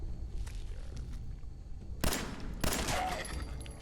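Two sharp, loud gunshots from a video game, about half a second apart, over a rumbling ambient background with faint clicks.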